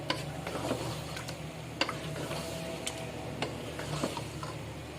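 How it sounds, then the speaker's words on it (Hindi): Chicken frying in a pan with ginger and garlic, giving a steady low sizzle with occasional clicks and scrapes of stirring, close and fairly quiet, with no talking. "अब इसमें चिकन डाल दिया है। इसको भी थोड़ा भून लेंगे"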